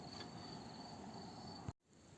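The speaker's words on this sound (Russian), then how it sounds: "Вот наш сверчок." A pet house cricket kept indoors chirps steadily, a thin high trill repeating through the room at moderate level, then cutting off abruptly near the end before faint room tone returns.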